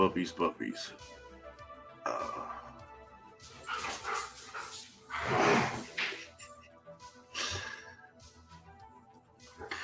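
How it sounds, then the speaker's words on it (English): Puppies bark and yip in short excited bursts, some loud and close, with a person talking over them. "Puppies."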